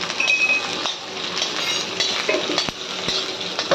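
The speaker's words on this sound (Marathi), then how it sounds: "चला आपला कांदा भाजतोया" Onion roasts in a hot pan with a steady, gentle sizzle, broken by a few light metallic clinks and scrapes of a utensil.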